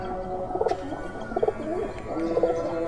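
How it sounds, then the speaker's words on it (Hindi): A Kasuri pigeon coos close by in three soft, rhythmic bursts spaced about a second apart, over a low background hum. "ये कसूरी है, कसूरी कबूतर।"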